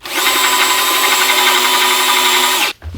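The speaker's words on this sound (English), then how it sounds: "So let's just drill this out really quick now." A power drill boring out a hole in a wooden guitar body, a loud, steady whine held for nearly three seconds before cutting off abruptly.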